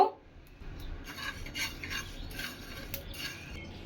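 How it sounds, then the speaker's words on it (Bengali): Panch phoron spices dry roasting with dried red chillies in a hot frying pan for pickle, giving a steady close rasping, rubbing scrape of seeds stirred against the metal, with soft irregular ticks and no voices. "এখন পাঁচফোড়নগুলি টেলে নিব।"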